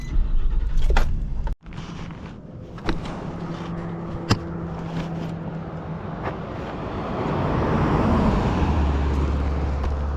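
An old Datsun 240 car, infested with bees, pulls off for a drive. A low engine rumble and road noise build up steadily, with a few knocks and rattles from the cabin close by and no talking.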